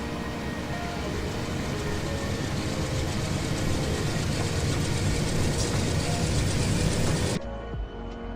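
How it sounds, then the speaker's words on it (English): Diesel locomotive distributed power units spool up in the Run 8 Train Simulator game on the Tehachapi climb, a loud sustained engine rumble that rises steadily and then cuts off abruptly near the end. "the DPUs are spooling up"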